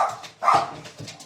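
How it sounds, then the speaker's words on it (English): Several dogs barking in a sudden agitated burst, a few sharp barks and yips close by and fairly loud, with no talking over them. "my sister's dogs just heard me talking and went berserk"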